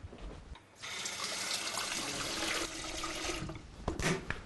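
Water runs from a tap into a kettle in a steady rushing stream for a few seconds, close by, starting abruptly and ending with a couple of clunks.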